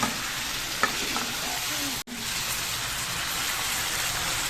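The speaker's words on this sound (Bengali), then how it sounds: "আলু আর মূলোটা দিয়ে ভালো করে কষিয়ে নিচ্ছি।" Fried potato and radish stir-fried in a pan, a steady sizzling hiss with a few scraping stirs of the spatula and a brief break partway through.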